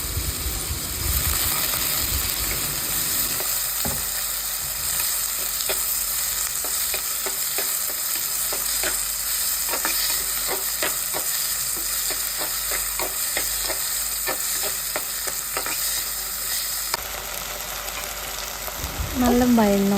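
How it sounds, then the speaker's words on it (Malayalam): Onions and tomatoes sautéing in a pan with salt, a steady sizzle broken by repeated clinks and scrapes of a spoon stirring, close and continuous, with a brief rising tone near the end. "അതിനുശേഷം നമ്മൾ ആവശ്യത്തിനുള്ള തക്കാളി ഇട്ടിട്ട് അതിട്ട് നല്ല വഴറ്റി കൊടുക്കുക"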